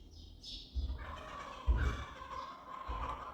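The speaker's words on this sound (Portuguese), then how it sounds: "Desculpa aí o barulho das galinhas" Backyard hens cackle and squawk nearby in a domestic yard, a few loud bursts rising over a steady low background hum.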